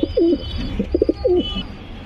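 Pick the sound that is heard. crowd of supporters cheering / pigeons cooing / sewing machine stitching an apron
pigeons cooing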